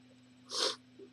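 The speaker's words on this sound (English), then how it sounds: "I'm gonna sneeze here." One short, sharp sneeze from a person at a desk during a live programming session, a single burst over a faint steady electrical hum.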